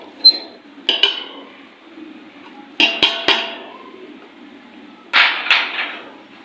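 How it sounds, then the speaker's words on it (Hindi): Metal spoon clinking against a pot while stirring whole spices into mutton mince, a few sharp scattered clinks and scrapes in small clusters over a quiet background. "चला लेते हैं, इसके अंदर चमचा कर देते हैं मिक्स"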